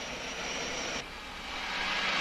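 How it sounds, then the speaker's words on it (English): An army aircraft engine roars loud and close with a continuous droning whine, dipping briefly and then swelling again, with no talk over it. "I was airlifted to Morocco's front lines by army helicopter."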